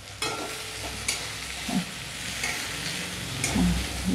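Eggplant pieces sizzle in a hot pan with a crackling hiss, broken by several soft clunks and scrapes as they are stirred, close and fairly even in level.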